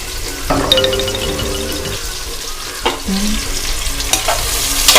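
Chopped onions and four green chillies frying for mutton biryani in a cooker, with a loud, steady sizzle and occasional utensil scrapes and knocks close by, and no speech.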